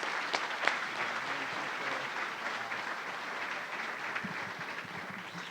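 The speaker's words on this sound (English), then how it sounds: "let's give a round of applause to all of our ALAC graduates" Steady applause from an audience at a spring college graduation salute, honoring agricultural leadership program graduates, sustained and even across the whole stretch with no voices over it.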